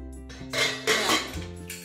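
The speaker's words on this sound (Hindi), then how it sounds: "और अब कुकर का ढक्कन लगाकर" A metal lid is fitted onto a pressure cooker, giving a few close metallic clinks and scrapes in a short, quiet kitchen moment.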